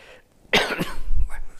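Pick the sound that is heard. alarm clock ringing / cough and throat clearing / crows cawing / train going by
cough and throat clearing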